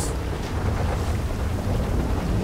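Big ocean waves churn during a storm in GTA 5, a loud, rushing roar of surf and wind that fills the whole moment, close and unbroken, with no speech.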